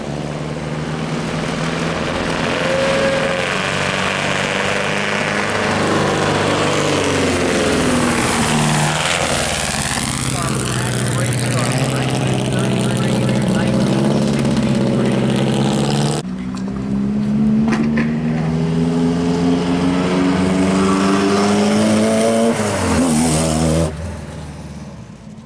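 A loud 1933 vintage sprint car engine roars continuously, its pitch rising and falling as it revs, then cuts off abruptly near the end.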